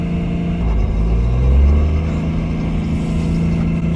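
A car engine rumbles loud and close, steady with a brief surge in revs, heard alone as the car drives just before drifting.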